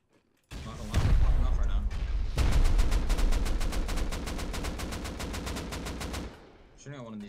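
Rapid automatic gunfire in Rust, a loud sustained burst of evenly spaced shots after a single heavy opening blast, with voices talking over it.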